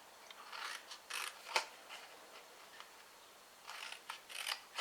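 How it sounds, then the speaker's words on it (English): Small scissors snipping along score lines in card up close, several short crisp cuts in bursts with brief pauses between, fairly quiet with no talking. "I'm going to change to my smaller scissors now, and we're going to cut up each of these"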